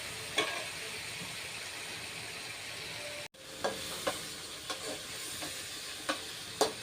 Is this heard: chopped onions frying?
yes